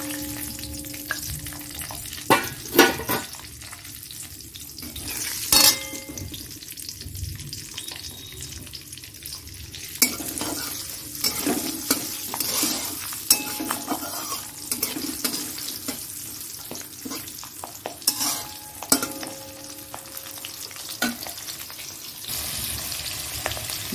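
Small onions sizzle and fry in a pan while being stirred, a steady crackling hiss broken by sharp scraping stir strokes and occasional clinks, close and fairly loud with no talking.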